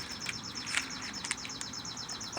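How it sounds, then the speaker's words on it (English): Baby birds chirp in quick, high, repeated tweets in a faint, rapid series with a few sharper peeps, set against soft outdoor background noise. "there's some baby birds"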